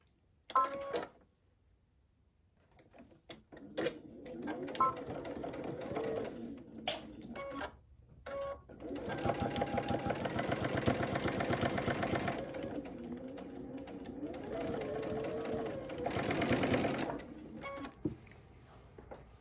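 Sewing machine stitching denim for a cathedral window table runner, with intermittent bursts of rapid mechanical whirring and clatter separated by short pauses, moderately close.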